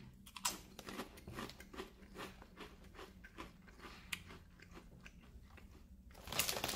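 Someone bites and chews Quest sour cream and onion protein chips close to the mic. The crunches are quiet, irregular and crackly, with a louder burst near the end.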